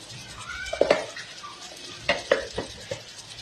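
Two finely chopped tomatoes, salted, fry in a pan for upma while a spatula stirs. A soft steady sizzle runs underneath, broken by a few sharp clinks and scrapes against the pan.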